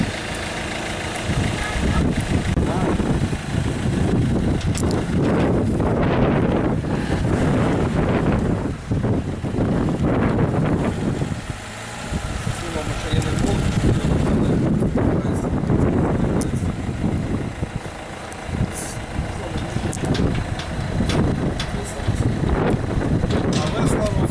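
Strong wind buffets the microphone throughout in a continuous roaring rush, with voices talking underneath.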